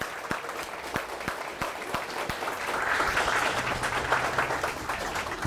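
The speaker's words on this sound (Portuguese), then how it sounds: "Palmas pro Luciano." Audience applause at a tech talk as a speaker named Luciano is welcomed, a room of hands clapping steadily at moderate volume with a few sharper nearby claps, swelling slightly midway.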